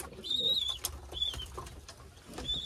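Pigeons in a flock of about forty coo softly nearby, with low throaty calls repeating unevenly while faint higher chirps and whistles sound over the top.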